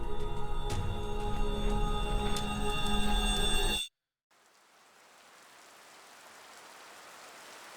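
Gentle rainfall from the visual novel game Tsukihime: A Piece of Blue Glass Moon fades in after a brief silence as a soft, steady, distant hiss, following an earlier stretch of other sound.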